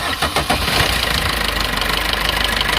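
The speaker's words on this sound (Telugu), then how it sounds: "ఒకసారి స్టార్ట్ చేసి మీకు ఇంజిన్ సౌండ్ ఎలా ఉందో చూపిస్తాను" A used car's engine cranks and catches after a few quick stuttering bursts, then settles into a steady, close, loud idle with a pulsing rumble.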